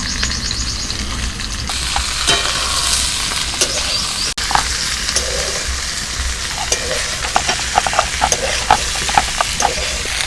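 Soaked kalai lentils are ground by hand with steady, rhythmic scraping and rubbing strokes. The strokes are close and fairly loud, grow more distinct toward the end and have no talking over them.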